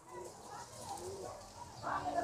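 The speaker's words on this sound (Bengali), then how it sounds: "পায়রাগুলো ছটফট করছে" Restless pigeons shifting about a loft full of young birds, with soft coos and fluttery calls rising near the end over a steady background murmur.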